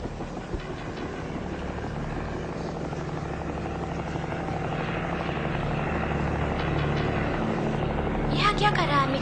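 An army helicopter passes overhead, its rotor thumping and engine roaring loud and steady throughout and swelling toward the end, with voices heard beneath it.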